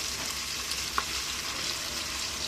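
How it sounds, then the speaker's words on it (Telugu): Gongura leaves and tomatoes fry in a pan for gongura chicken, a steady close hiss of sizzling with one small clink partway through. "సో గోంగూర వేస్తున్నా చూడండి."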